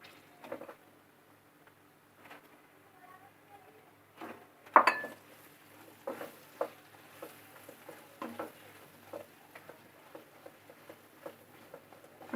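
Chillies, red chilli powder and onion being stirred in a pot while cooking a mutton curry, with soft scraping and clinking of a spoon against the pot in irregular bursts, one sharper clatter, and light sizzling underneath.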